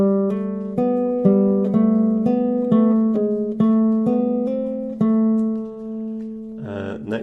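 A bar on a Russian 7-string guitar tuned to open G, picked notes linked by hammer-ons and pull-offs, about a dozen clear plucked tones in a steady phrase, close and alone, ending with a brief strum.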